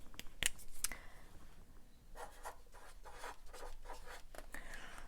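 A scoring tool presses along paper for a one-sheet mini album, with scraping strokes and a few sharp clicks and taps, close and fairly quiet with no talking.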